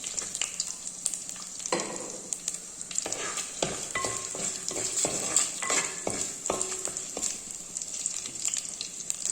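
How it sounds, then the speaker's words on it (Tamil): Garlic frying in a pan for a fish curry makes a bright, steady sizzle, overlaid with frequent clinks and scrapes of a stirring utensil, heard up close. "பூண்டு சேர்த்துக்கலாம்."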